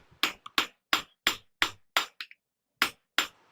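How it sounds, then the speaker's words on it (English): Sharp metallic hammer blows from a smaller hammer strike hot steel on an anvil while forging a cross peen hammer, about nine ringing hits in an irregular rhythm, close and loud with short pauses. "I've changed hammers here too to a smaller hammer to try to hollow that down"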